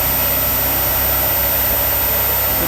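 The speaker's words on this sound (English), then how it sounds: "It's got a vacuum pump for emissions." A vacuum pump for emissions drones steadily in the engine bay of a Honda S2000, a continuous close mechanical hum with low engine-like rumble and no voices.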